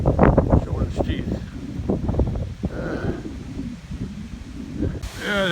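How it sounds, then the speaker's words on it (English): A strong, cold north wind blows outdoors and roars steadily against the microphone while someone talks over it, with a gusty rush that keeps on under his voice. "blowing pretty strong"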